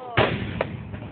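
A single muffled boom from a fireworks display at an NDP NE show, heard from a distance and followed by a softer second pop and a low rumble.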